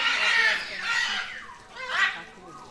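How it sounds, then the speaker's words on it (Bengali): Colourful birds in an aviary at Gazipur Safari Park give a few loud, harsh calls in bursts, nearby and rising and falling, with a voice faintly present in the background. "ডাকটি পাখির হেবি সুন্দর ডাক,"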